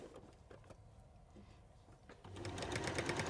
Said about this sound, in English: So continue sewing that seam.